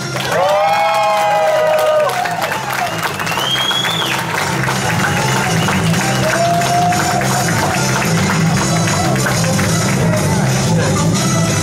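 A large crowd at a stand-up comedy show in Bettendorf breaks into loud, sustained applause and cheering, with whoops and shouts rising over steady clapping for the comedian's entrance.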